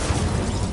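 The Incendio fire spell from Hogwarts Legacy bursts out as a loud, dense whoosh and roar that holds steady for under a second.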